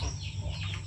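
A large, young Shamo Aseel chicken clucks in a short close burst, its calls layered over a steady low background hum with no talking.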